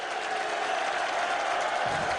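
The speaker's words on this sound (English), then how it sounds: "Standing ovation for the referee on the free kick" Football crowd at Burnley in a 2007 match against Cardiff City applauds the referee after a free kick, a dense, fairly distant wash of clapping held steady throughout, with no speech.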